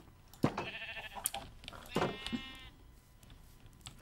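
Sheep in a video game give two or three distinct wavering bleats over faint background sound, close and moderately loud, with a short gap between calls.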